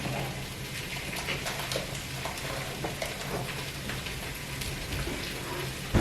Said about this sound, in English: what I'm going to do to deglaze this, these bits, I'm going to put a little red wine vinegar